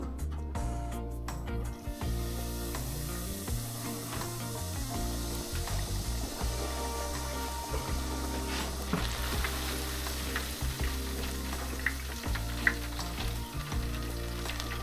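Karaage, Japanese fried chicken, sizzles in hot oil during its first deep fry, a dense continuous crackle and bubbling with occasional clinks and scrapes, close and steady with no talking.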